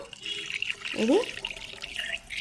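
Water is poured into a spray bottle to mix a homemade organic remedy for plant bugs, a short burst of liquid splashing and filling amid faint background noise.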